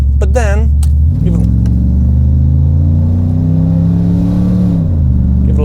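A 1990 Cadillac DeVille engine revs with its exhaust cutoff valve open, a loud, close rumbling roar that climbs and holds before easing off, with a brief voice and jingling near the start.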